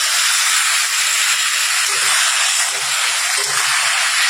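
A steady, loud hiss and sizzle as a small splash of water is added to egg curry frying in a pan, continuous for several seconds with faint clatter beneath.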